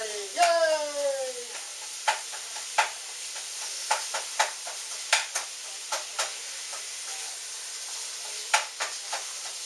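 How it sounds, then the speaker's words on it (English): Food sautéing in a pan on an electric stove for lazy lasagna, a steady low sizzle broken by a dozen or so sharp spatula clinks and scrapes at irregular intervals, with a brief rising tone at the start. "Saute away."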